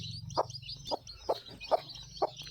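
A country hen with newly hatched chicks gives five short, low clucks at an even rhythm, close by, while faint high chick peeps chirp continuously behind.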